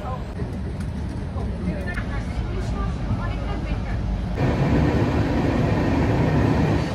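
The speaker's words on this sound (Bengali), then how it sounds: "আমাদের ট্রেন এখন চালসা স্টেশন থেকে ছাড়লো" The Vistadome tourist special train from New Jalpaiguri to Alipurduar pulls out of Chalsa station, its steady rolling rumble filling the carriage and swelling louder about two-thirds through.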